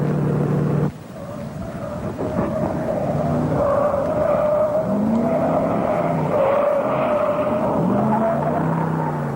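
A 1973 Buick GS 455 spinning through a forward slide on a test track, its engine droning steadily with tire squeal rising and wavering, close and loud throughout after a brief quieter opening.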